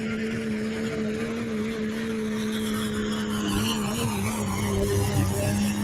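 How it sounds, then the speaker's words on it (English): A diesel truck at the Golden State Invitational truck and tractor pull in Madera, California, drones with a loud, sustained engine note that holds steady throughout and rises slightly toward the end. "I think these are your diesel trucks now."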